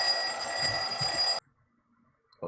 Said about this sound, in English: I assume that's your D&D alarm.